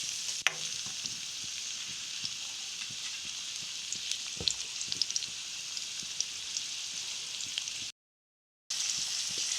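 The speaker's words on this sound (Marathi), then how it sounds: "मी तेल गरम झालेलं आहे मोहरी चांगली फ्राय जाऊ दे" Mustard seeds frying in hot oil make a continuous crackling sizzle with scattered pops and a brief dropout near the end, heard up close with no talking.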